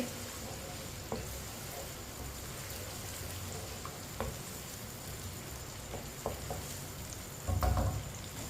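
Chopped onion fries in oil or ghee with a steady, faint hiss and crackle, broken by a few soft clicks and a brief low bump of stirring near the end.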